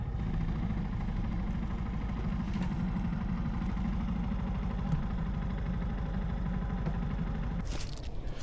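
A motorbike engine idles steadily as the rider parks it near a gate in Kyoto, a close, continuous low putter that cuts out near the end with a brief rustle.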